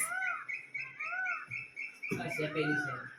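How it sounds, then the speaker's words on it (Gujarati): Clear, ringing bird calls repeat several times close by, a peacock's cry rising above outdoor ambience, with a louder burst of rustling near the end. "જો મોરનો અવાજ આવે"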